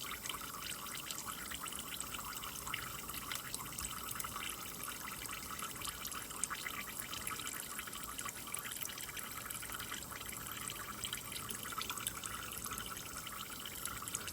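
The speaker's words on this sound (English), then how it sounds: "to get this out and drain the oil, make sure you have your oil pan sitting underneath there" Engine oil drains from a car into an oil pan, a steady, continuous liquid pour and trickle that runs unbroken throughout with no talking.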